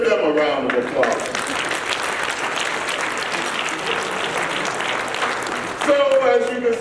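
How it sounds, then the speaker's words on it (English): A hall audience at a university Confucius Institute anniversary event gives a full round of applause, loud and continuous from start to finish, with a voice faintly audible beneath the clapping near the beginning and again at the end. "Give them a round of applause."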